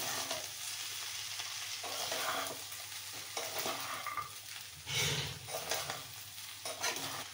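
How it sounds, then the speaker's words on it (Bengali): Fried soybeans being stirred into rice in a pot for soybean pulao, a steady scraping stir over a soft continuous sizzle, with a louder scrape burst midway, close and alone. "আবার একটু নাড়িয়ে নেব"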